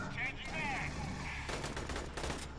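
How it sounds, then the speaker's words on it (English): Gunfire in the video game Aliens Colonial Marines: rapid automatic bursts and crackling shots, with a dense volley of repeated shots in the second half, loud, over game sounds. "I don't know why they're only shooting at me"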